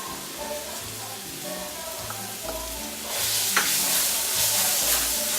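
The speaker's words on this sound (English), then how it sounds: "Now I'm going to add my garlic. I already have my garlic sitting in oil" Garlic fries in oil in a pan with a continuous sizzle and stirring scrapes, and the frying swells louder and brighter about halfway through.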